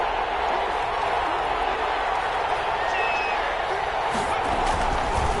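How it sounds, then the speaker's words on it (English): A large crowd in an American football video game on PS4 applauds and cheers in a steady, continuous roar that fills the whole stretch without letting up. "How about some applause for the defense there?"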